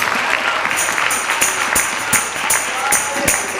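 Church congregation applauding a women's group president during an anniversary service, steady crowd clapping with recurring sharp cheers or whistles throughout, loud and close.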